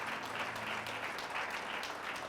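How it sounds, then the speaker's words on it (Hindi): A church congregation claps together during a sermon, a steady dense patter of many hands filling the room, moderately distant and fairly quiet throughout. "क्यों ना प्रभु का धन्यवाद करें ताली बजाकर।"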